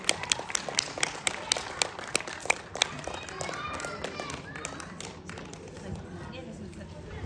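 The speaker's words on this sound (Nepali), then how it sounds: "सबैजनाले ताली बजाइदिनु होला।" Audience clapping at a Nepali youth club's Lhosar picnic ceremony: a quick burst of sharp, fairly regular claps up close, then fading into a murmur of crowd chatter and voices.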